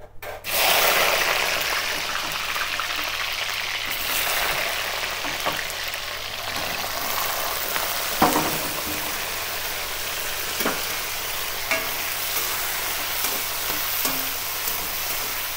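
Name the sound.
bitter gourd pieces frying in hot oil in a pan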